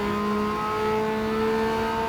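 A Honda Beat engine in Gran Turismo 7 holds a steady, loud revving drone with clear harmonic whine that rises slightly in pitch through two seconds, with no talking.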